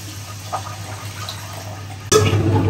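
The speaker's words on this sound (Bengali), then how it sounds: "এই যে মশলা কষানো আমার হয়ে গেছে। এখন পানি দিয়ে দিব।" Water is poured into a frying spice mixture in a pan, a sudden rushing splash and sizzle after a quieter stretch of low background hiss and faint clinks.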